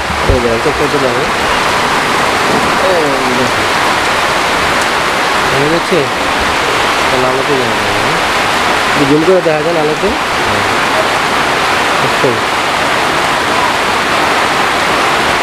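Heavy rain falls as a loud, constant roar through the whole stretch while someone talks over it on and off.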